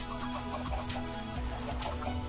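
Minecraft chickens cluck in a short, steady run of soft blocky clucks, alone with no talking, against a faint hiss.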